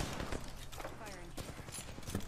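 Video game gunfire cracks in quick, dense shots, close and loud over a busy battle din, with voices talking throughout.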